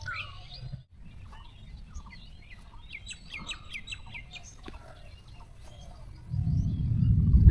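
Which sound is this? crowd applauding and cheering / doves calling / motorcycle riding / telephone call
doves calling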